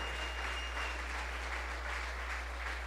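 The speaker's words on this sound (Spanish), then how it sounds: "denle un aplauso al Rey de Gloria." A church congregation applauds during a sermon, with steady, fairly faint clapping spread across the room over a low, constant hum.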